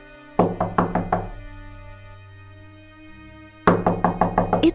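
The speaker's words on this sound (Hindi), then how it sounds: "तभी जोर जोर से दरवाजा पीटने की आवाज सुनाई देती है।" Loud, rapid knocking on a house door on a cold night in a Hindi cartoon story: a burst of about five sharp hollow bangs, a quiet pause, then another run of about six bangs, all close and alone.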